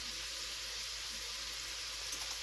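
Bacon cooking in a pot for corn chowder, with a steady, quiet sizzle and light crackling like fine rain, constant and close with no speech.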